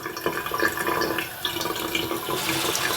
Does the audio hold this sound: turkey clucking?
no